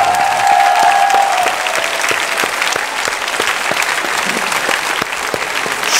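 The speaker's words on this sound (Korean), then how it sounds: "박수, 박수." A church congregation claps together at a Friday worship service, dense sustained applause filling the space, loud and steady throughout with a few sharper claps standing out.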